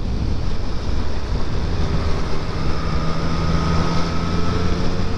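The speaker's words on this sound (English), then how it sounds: "oh, it's windy" Steady, strong wind buffeting the microphone while riding a Triumph Street Triple RS motorcycle on country roads, a continuous rushing roar with no break throughout.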